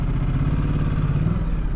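Ducati Multistrada 1260 S motorcycle engine idling while stationary in urban riding mode, a steady, close, low rumbling throb held evenly throughout with no talking.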